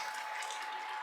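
A whisk scrapes and clicks quickly against a pot, working a flour and water paste into a simmering sauce, a short close rattling burst with no talk.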